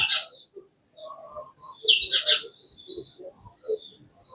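A house sparrow chirps in short, bright bursts close by, with quiet gaps between calls and some soft low rustling underneath.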